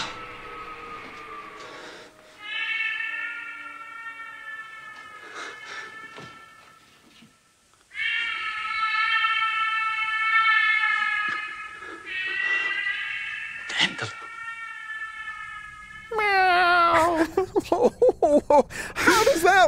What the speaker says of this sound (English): you just kind of hear it meowing around in the air